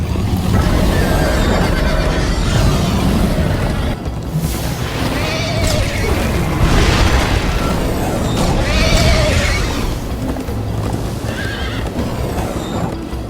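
Horse from the game Minecraft Story Mode neighing and whinnying repeatedly while galloping hooves clip-clop steadily underneath, loud and close over a dense background of game sound effects.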